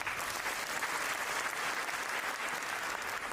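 An audience claps steadily at a televised event in Kenya, a dense, continuous round of applause from many hands at a close, even level.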